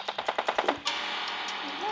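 Automatic gunfire in the mobile shooter game PUBG Mobile Lite: a rapid burst of about seven loud shots, followed by a sustained ringing, hissing game ambience.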